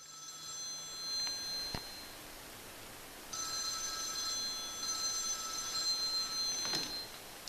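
A telephone rings in two long electronic bursts with a pause between them, heard as the caller phones a veterinary lab. The rings are clear and steady over a quiet background, with no voices.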